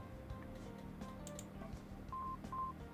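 Telephone keypad dialing tones in a video game beep a few times, short steady pitched notes spaced out over a quiet, faint musical background.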